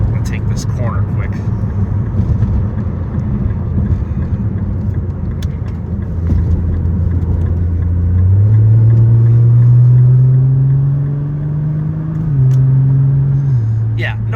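A 2010 Nissan GT-R takes a corner quickly, its engine a loud, steady close drone that climbs in pitch midway and holds high before easing slightly, with a voice faintly present.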